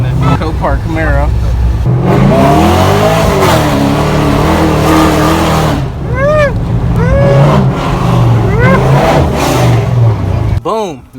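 A Chevrolet Camaro SS on a test drive, the V8 revving and accelerating hard in repeated loud surges, with people talking excitedly over the engine throughout.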